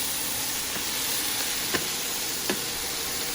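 Chinese broccoli stems stir-frying with beef in a hot pan, a steady close hiss of sizzling with a few faint clicks of stirring, no talk.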